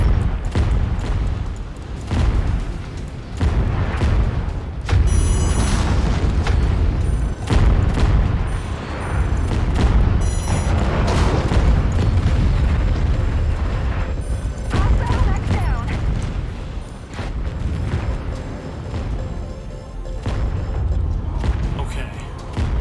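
Explosions in the video game MechWarrior 5: Mercenaries, with a target blowing up amid repeated heavy booms and blasts of gunfire, loud and close, over continuous battle noise, with voices talking.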